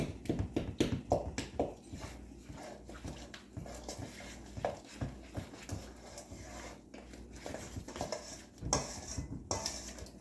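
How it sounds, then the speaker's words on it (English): Cornbread batter being stirred in a bowl after eggs are added: repeated clinks and scrapes of a utensil against the bowl, irregular and fairly close, with soft kitchen background. "Let's stir that in."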